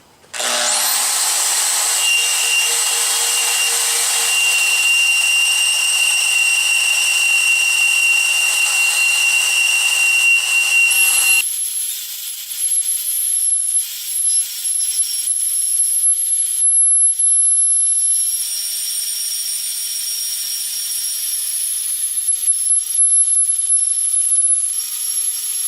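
Milwaukee portable bandsaw cutting through 4 3/4-inch steel pipe: a loud, steady, high-pitched whine with metallic grinding that runs for about eleven seconds, then a quieter, thinner whirring hiss that continues to the end.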